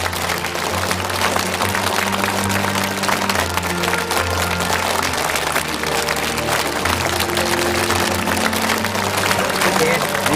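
A studio audience at a television show breaks into steady, sustained applause filling the room for ten seconds, with a low musical tone and faint voices underneath.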